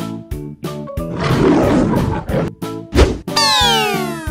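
A lion's roar rises loud and rough over a bouncy musical backing, followed by a sliding springy cartoon effect near the end.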